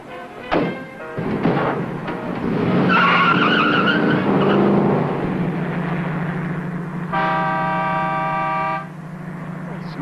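A car pulls away at speed with tires skidding, a short screech followed by a loud engine roar, then a sustained horn-like tone near the end; brief voices sound early on.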